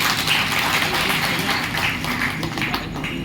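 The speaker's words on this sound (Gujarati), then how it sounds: "તાળીઓ વગાડો." An audience at a Vishwa Hindu Parishad ceremony in Visnagar claps steadily, a continuous patter of applause with a low crowd murmur underneath, lasting a few seconds.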